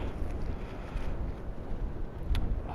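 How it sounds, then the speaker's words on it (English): Strong wind blows across an open field during metal detecting, a steady rough roar buffeting the microphone with low rumbling gusts and no talking. "oh, so windy you could hardly breathe."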